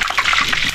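Hot cooking oil mixed with water splattering and spitting while frying fish, a dense run of crackling pops and sizzles, close and fairly loud, with no voices.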